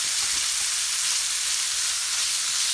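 Beef stir-frying in a hot pan, giving a loud, steady, close sizzle of hissing oil that runs without a break and with no voices over it.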